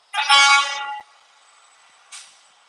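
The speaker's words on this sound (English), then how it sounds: "People are still honking as we are packing up." Outdoors near a street protest, a car horn blasts once for about a second, and a second, shorter and fainter honk follows.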